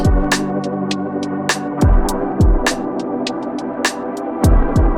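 Drum loop with crisp hi-hat hits run through an automated formant effect, the tone sweeping and shifting quickly for a vocal, talking quality over steady kick and bass; no voices.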